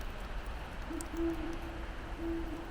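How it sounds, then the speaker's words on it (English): An owl hoots from far across a valley at night during cliffside camping in the Pacific Northwest, giving a few faint, spaced calls over a steady background wash of waterfall noise. "there's an owl across the valley that just started hooing"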